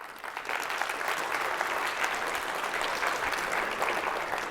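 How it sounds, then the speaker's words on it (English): Audience at a national school drone racing event giving a sustained round of applause, dense even clapping from a sizable crowd that stays loud and steady throughout. "round of applause for Joe Scully, being our announcer."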